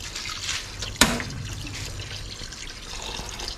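Plain water poured into a pot set up for boiling: a steady liquid trickle and splash, with a sharp clink near the start and soft pouring continuing throughout.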